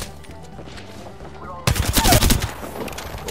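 Bow shots fired in Apex Legends, a sudden loud burst of impacts and game effects kicking in partway through over a quieter game background.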